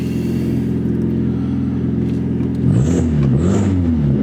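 A Honda Civic engine revs as it accelerates, with a steady low rumble that rises in pitch midway and a faint high squeal riding on top.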